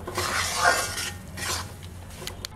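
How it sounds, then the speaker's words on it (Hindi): Wheat flour is stirred steadily as it roasts in ghee in a pan over a slow-medium flame: soft scraping strokes over a gentle, constant sizzle, with no voices. "इसे इस तरह से लगातार चलाते रहें"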